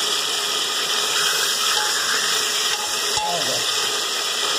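Beef sizzles loudly as it sears in a pressure cooker pot, a continuous crackling fry with a brief clank of metal partway through.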